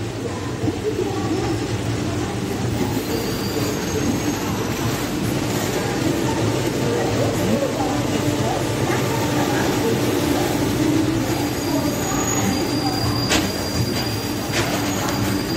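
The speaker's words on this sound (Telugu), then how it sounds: "ఆఫ్టర్ చైన్ పుల్లింగ్ 12:28కి బయలుదేరింది ట్రైన్ అయితే" The Sabari Express pulls out of Secunderabad station after a chain-pull stop, a loud, close, continuous rumble of wagons with rolling wheel clatter and occasional high metallic squeals.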